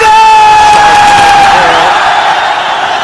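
A cricket crowd applauds and cheers a batsman during a Pakistan versus India match, a loud, steady wash of clapping and roaring voices with whistle-like tones over it and no clear pauses.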